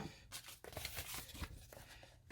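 Packing material being cut up close, a short run of rough snipping and tearing bursts with no talking.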